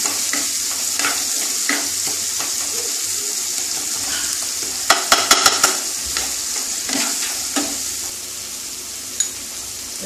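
Chopped chili and spices sizzle with eggplant in a hot pan, a steady crackling fry broken by a cluster of sharp utensil clinks and scraping stirs midway.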